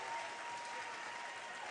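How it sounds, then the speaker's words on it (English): Applause from the home crowd at a Western Lacrosse Association box lacrosse game in Victoria, a steady, even patter of clapping filling the arena for a short stretch. "Delayed penalty coming up as Danny Smith gets another round of applause here from the Shamrock faithful."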